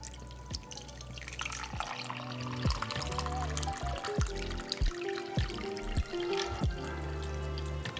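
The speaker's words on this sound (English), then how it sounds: "Now it's time to grab your cup and pour the drink in." A fruit bubble tea drink poured into a cup, a wet splashing pour with drips and trickles, close up and moderately loud with no talking.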